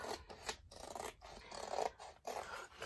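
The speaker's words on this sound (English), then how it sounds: "we're just going to cut around this one" Scissors cut around a completed diamond painting canvas, making rhythmic rasping snips with brief pauses, close and quiet with no voices.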